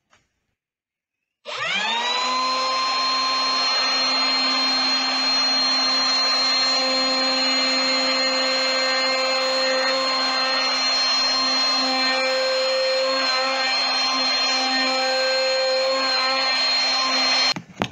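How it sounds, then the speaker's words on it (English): A wood router riding on an elevating angled jig cuts a back-angled guitar neck pocket, a loud steady high-pitched whine that spins up after a brief silence and holds without pause for about sixteen seconds. "it's really just a way of elevating the router above the cavity and getting it to move at the right angle"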